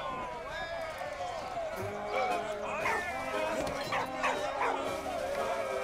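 A dog in the World War I video game Valiant Hearts: The Great War gives a series of short yips and barks with some whimpering, fairly close and lively, while someone talks at the same time.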